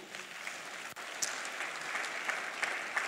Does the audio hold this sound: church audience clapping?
yes